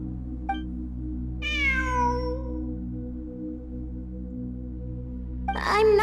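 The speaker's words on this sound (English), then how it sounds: "It really is a cat" A cat meows in the Genshin Impact video game, one drawn-out, clear call rising and falling over steady ambient game music, with a brief sharper cry at the end.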